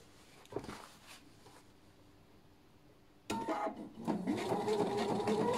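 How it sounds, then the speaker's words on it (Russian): Sewing machine running a seam on a natural silk pillowcase and backstitching at the end, faint soft taps at first, then a sustained louder whir of stitching near the close. "прокладываем строчку и ставим закрепку в конце"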